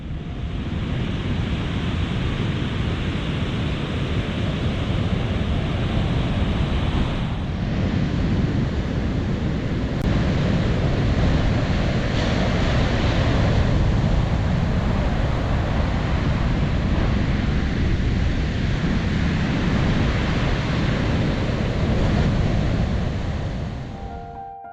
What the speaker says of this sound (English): The big waves, as they pushed in from the ocean, they were very noisy